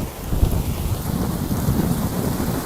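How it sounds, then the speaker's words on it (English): Heavy rain pours down in a steady, dense roar with a low rumble underneath, close and loud throughout. "It looks like a thunderstorm to me."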